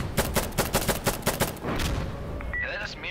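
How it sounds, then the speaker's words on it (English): Gunfire and explosions in a first-person shooter video game: a rapid series of sharp bangs in quick rhythm, followed by a rumbling burst and some electronic tones. "What's with the explosions?"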